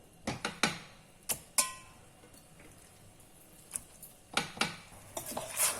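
A utensil stirs an eggplant mixture in a pan for a Korean-style soy sauce dish, giving sharp, scattered clinks and scrapes against the pan in irregular bursts, with quiet stretches between them.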